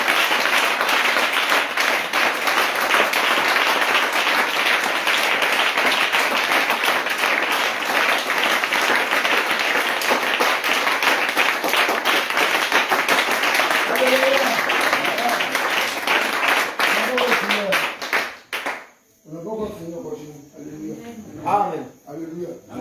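A church congregation at a night-time prayer of repentance applauds in praise, a dense, steady roar of clapping that runs for most of the stretch before breaking off into scattered voices and singing.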